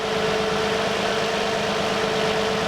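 A car engine idles steadily during a head gasket leak check, a continuous even hum with a low throb that stays level and close throughout, with no voices.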